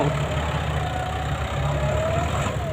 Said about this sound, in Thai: โดยเจ้ารถไถ GS 115แรงมา้า ทำการเกรดลงสาไปแล้ว